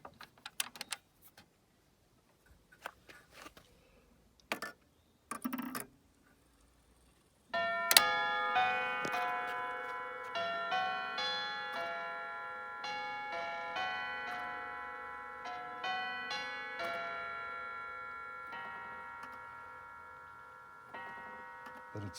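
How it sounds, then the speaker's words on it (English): An 1888 Tiffany & Co. bracket clock plays a progressive Westminster chime, with a run of clear ringing bell notes that sustain and overlap after a few faint mechanical clicks and knocks, loud and close with no talk. "Has a beautiful chime to it. Plays a progressive Westminster chime."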